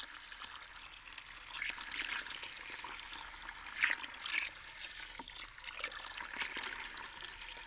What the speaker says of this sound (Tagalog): Ihalo natin sa tubig ito ka-agri.